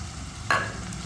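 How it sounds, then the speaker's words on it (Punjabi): Onion, ginger and garlic dropped into plenty of hot oil, a sudden loud sizzle bursting in and then settling into a steady frying hiss, with no voices. "ਪਿਆਜ਼ ਪਾਤਾ ਹੁਣ ਪਾਤਾ ਅਦਰਕ ਤੇ ਨਾਲ ਹੀ ਪਾ ਦੇਣਾ ਲਸਣ"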